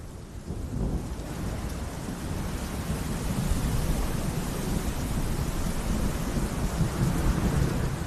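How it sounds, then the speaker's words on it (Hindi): Steady heavy rain pours down in African wilderness with deep, low thunder rumbling throughout, a dense continuous wash of sound with no voices. "आखिरकार बारिश आई।"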